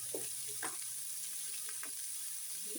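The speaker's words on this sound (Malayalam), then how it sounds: "ആദ്യമേ ഇത് നമുക്കൊന്ന് എണ്ണയിലൊന്ന് ചെറുതായിട്ടൊന്ന് വാട്ടിക്കൊണ്ടുവരാം" Puff pastry filling sautéing with salt in hot oil in a pan gives a faint, steady sizzle, with a few soft stirring scrapes at irregular moments.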